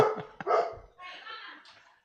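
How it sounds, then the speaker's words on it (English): A chocolate Labrador gives a few short barks up close, mixed with speech-like sounds over about two seconds. "I have a chocolate lab, and he likes to bark even if he thinks he hears somebody."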